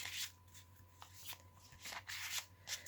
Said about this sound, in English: And they do shuffle quite nicely with the way I shuffle them.